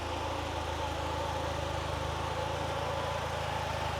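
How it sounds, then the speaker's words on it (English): A restored 1951 Willys Jeep engine idles steadily while an electric cooling fan whirs loudly over it, giving a constant, even drone with no voices. "the electric fan's making way more noise than the engine itself"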